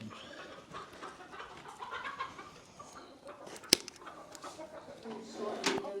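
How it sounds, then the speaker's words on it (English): Chickens cluck and squawk amid a busy ranch farmyard, with a sharp flurry of roosters fighting near the middle and people talking throughout. "Chicken fight over here. Rooster fight."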